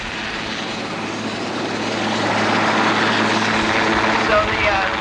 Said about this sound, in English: The helicopter is going to lower the basket down.